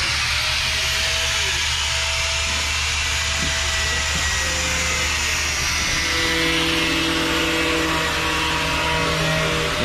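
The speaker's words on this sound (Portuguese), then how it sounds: "Agora vai meter a lixadeira pra dentro aí pra gente ir." A power sander runs continuously inside the cab of a Ford Cargo truck, a loud, steady broadband whine with a low motor hum beneath, close and uninterrupted throughout.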